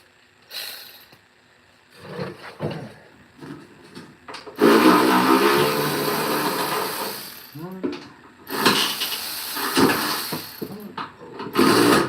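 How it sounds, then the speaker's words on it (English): A ratchet wrench turns a bolt on a Craftsman or Troy-Bilt snow blower, sending out bursts of rapid clicking in several stretches, with brief pauses and some faint talk between them. "Now we'll switch over to the ratchet."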